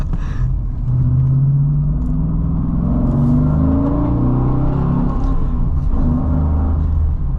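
Deep, steady V8 rumble from a Holden VE SS manual wagon while driving, loud and continuous with slight swells as the engine pulls, no voices over it.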